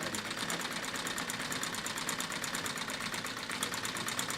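A treadle sewing machine stitches quilting through denim with a fast, steady mechanical chatter, close and continuous without a break.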